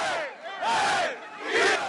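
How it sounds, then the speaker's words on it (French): A political rally crowd roars an adapted football supporters' chant, with several loud massed shouts rising and falling across two seconds. "il arrive à faire crier à la foule « Qui ne saute pas est un immigré clandestin »"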